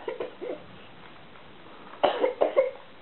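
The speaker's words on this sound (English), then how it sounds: "Oh, it's a bad cough." A person gives a bad cough in a few bursts: a short cluster of rough coughs at the start, a pause, then a louder run of about three coughs.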